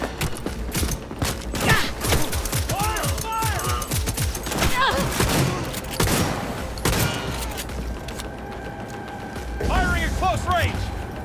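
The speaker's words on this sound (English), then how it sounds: "Firing at close range!" Close-range gunfire in the Cyberpunk 2077 video game, bursts of shots and mechanical clatter mixed with in-game voices calling out over a constant loud battle din.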